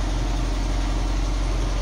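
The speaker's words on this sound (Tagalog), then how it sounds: "Ayan yung makina niya." Mitsubishi Fusion engine idling steadily with the hood open, a continuous low rumble and hum holding even for the whole short stretch, close by with no talking.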